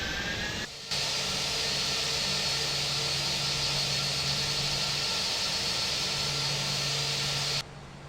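Steady, loud jet-engine roar from an Airbus A320 in Flight Simulator X, continuous after landing with a constant broadband hum and faint tonal whine.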